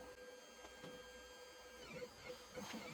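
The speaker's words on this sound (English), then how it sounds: "So right now it's printing a brim that goes around it." A 3D printer lays down a brim around a lithophane print, giving a faint, steady mechanical whir with soft stepper-motor tones and small rhythmic ticks, heard alone.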